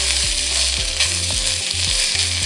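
Breakfast frying in a seasoned pan at a camping stove, a constant loud sizzle with a plastic spatula scraping the pan in a quick repeating rhythm, close up with no talking.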